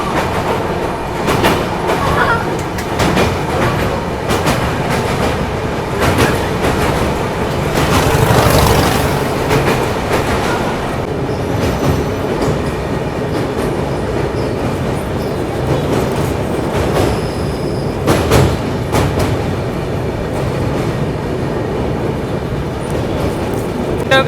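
A Paschim Express passenger train on the Mumbai–Amritsar run, near the Narmada river bridge, rolls along with steady, loud clickety-clack wheel rhythm and rumble, rising in intensity for a few seconds, with no voices.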